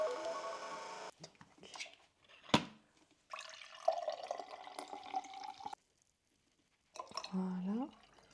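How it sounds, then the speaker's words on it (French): Warm water runs and splashes in a sink while a developing tank is filled and rinsed during film development, bursts of flow broken by pauses, with a gurgling pour near the end. "on est parti pour 4 rinçages à l'évier avec de l'eau chaude"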